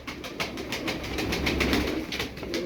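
Tumbler pigeons coo in a loft, a steady murmur of soft overlapping calls that carries on throughout with a few brighter bursts, fairly close and alone.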